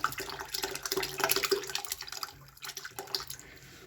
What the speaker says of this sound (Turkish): Şimdi süzüyorum.